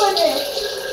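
Water pouring steadily in a kitchen, a loud close continuous splashing rush with no break.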